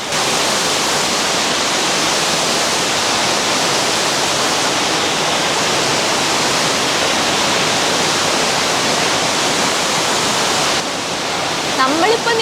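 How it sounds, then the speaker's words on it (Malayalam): Steady, loud roar of an underground waterfall rushing through the limestone St. Beatus Caves, a continuous broadband wash of falling water filling the whole stretch, close and unbroken. "ഇതിൻ്റെ ഉള്ളിൽ കൂടെയാണ് ശരിക്കും പറഞ്ഞാൽ ആ വെള്ളച്ചാട്ടം ഇങ്ങനെ പോയിക്കൊണ്ടിരിക്കുന്നത്."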